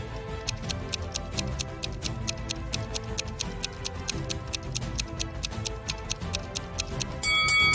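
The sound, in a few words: timer ticking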